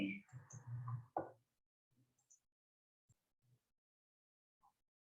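A single sharp computer mouse click on an OK button in statistics software, faint and brief, following a stretch of speech, with a couple of soft clicks afterward in near silence.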